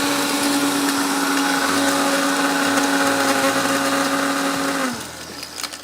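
A kitchen blender grinds red chillies with a loud, steady motor whine that runs for several seconds. The pitch then drops abruptly as the machine cuts off near the end.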